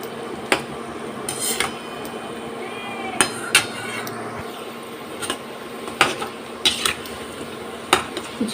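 Food fries in a pan while a utensil is stirred through it, giving sharp metallic clinks and scrapes at irregular intervals over a soft, low sizzle, with no voices.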